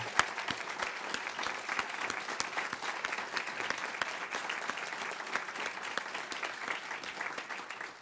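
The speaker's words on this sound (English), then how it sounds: "how about a Daemen round of applause for the senator?" Sustained audience applause for a senator at a college grant announcement event at Daemen, dense steady clapping throughout at moderate level, with no voices standing out.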